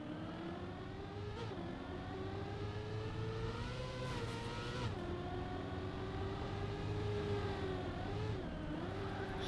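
Race car in a driving game lapping a race map, a faint but steady engine whine rising and dipping with throttle changes and gear shifts, continuous with no voices.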